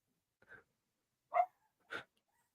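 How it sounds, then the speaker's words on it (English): Dog giving three short, soft barks or yips at fairly even intervals, faint and isolated against silence. "My dog doesn't like it either."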